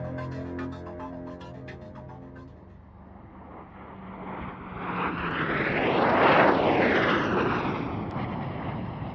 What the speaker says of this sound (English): Two more magnificent old classic jet aircraft, the Sabre, which came in the late 1940s, and the Hunter, which came in 1951.